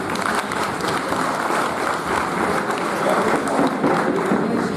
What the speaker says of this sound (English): a massive round of applause for the committee, please